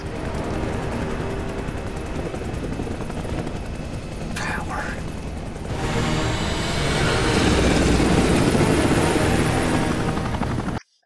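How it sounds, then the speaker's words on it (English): Helicopter sound design from the film Top Gun Maverick brings a loud, dense, crackling rotor roar with gunfire-like bursts, swelling in intensity midway through before cutting off abruptly at the end. "listen to the helicopter sound design, it's phenomenal what they did. It's always alive and crackling."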